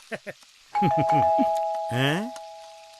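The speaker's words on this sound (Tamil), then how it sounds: "உங்க ஃப்ரெண்ட் நாதன் தான் பெல் அடிக்கிறாரு" A two-tone doorbell chime rings and holds, clear and close, while a person talks over it.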